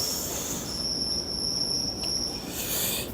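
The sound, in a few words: crickets chirping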